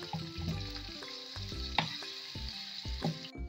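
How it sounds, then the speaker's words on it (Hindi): Marinated beef sizzles and fries in spices for a badami qorma, with loud, close bursts of crackling and stirring that come in an uneven rhythm, along with a faint tonal sound in the background. "यहाँ पर हम 1 से 2 मिनट तक के लिए गोश्त को अच्छे से भून लेते हैं।"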